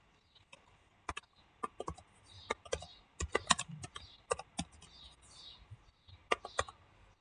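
Computer keyboard typing in a word processor, with scattered bursts of close, crisp key clicks in irregular clusters and short pauses between them, no voice.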